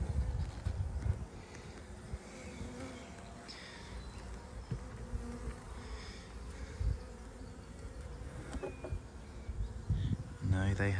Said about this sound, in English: the hive that has no roof on it, that is the colony that I've caught today